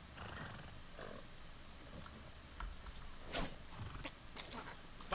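A horse in the video game Far Cry 6 gives faint neighs and snorts among soft hoof clops and background ambience, quiet throughout with a few sharper bursts.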